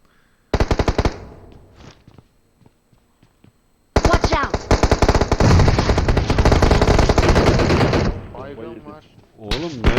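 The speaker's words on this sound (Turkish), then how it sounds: "Nereden vuruyorsun sen beni?" Gunfire in an online battle royale match, with a sharp burst, scattered single shots, then a long loud sustained automatic volley lasting several seconds, while players talk over it.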